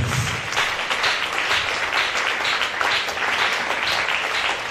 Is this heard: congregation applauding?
yes